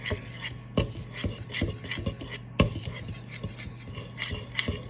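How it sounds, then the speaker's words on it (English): Flour, salt and baking soda whisked together in a bowl for banana bread, giving a steady scraping rasp with repeated sharp strokes of the whisk, close and alone. "Then we're going to whisk this together."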